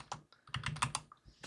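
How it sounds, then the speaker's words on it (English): Typing on a Redragon RGB mechanical keyboard, a run of quick, distinct key clicks in an irregular rhythm with short pauses, close and fairly quiet, with no voices. "let's grab our document and type test."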